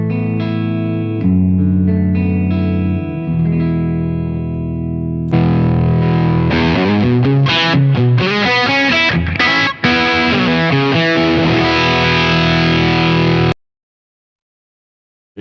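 Electric guitar through a Quad Cortex amp modeller preset, taken straight from the line outputs into an audio interface with no mic'd cabinet. A loud, distorted tone with effects plays sustained chords, then busier rhythmic picking, before cutting to silence near the end.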